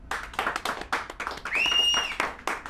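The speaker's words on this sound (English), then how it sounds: "So we're going to start by applause." Crowd clapping and cheering at a beard and mustache competition in Ocean City, a dense burst of applause with a sharp whistle rising above it midway through.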